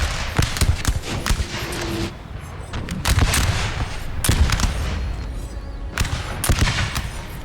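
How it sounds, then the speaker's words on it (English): Massed musket volleys in Napoleon Total War, repeated sharp crackling bursts of many shots at once, loud and fairly close, separated by brief lulls of rumbling battlefield noise. "They're firing."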